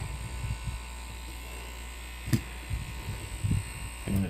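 Small electric motor inside a Disney Up snowglobe runs with a steady high buzzing whine, close and continuous, with a few handling clicks and knocks over it.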